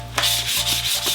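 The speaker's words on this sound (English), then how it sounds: "Just going to give it another light sanding." Close, steady wet sanding of a BMX bike frame with sandpaper in repeated back-and-forth strokes, a harsh scratchy hiss with brief breaks between passes.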